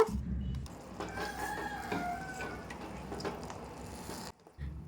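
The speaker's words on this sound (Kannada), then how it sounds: "ಹಿಂದ್ಗಡೆ ಮನೆಯಿಂದ ಕೋಳಿ ಕೂಡ ಕೂಕೊಂತಾ ಇದೆ" A rooster crows once at a distance from a house out back, faint and drawn out, with clucking and light clatter in the background.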